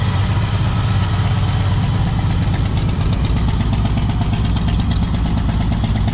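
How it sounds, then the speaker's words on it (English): A 1964 Pontiac Catalina barn-find V8 idles steadily and loudly up close through a broken-off exhaust pipe, meant to run dual glasspacks, with a deep, even, continuous rumble throughout. "Sounds like it's got a broken off exhaust pipe, like it's got duals."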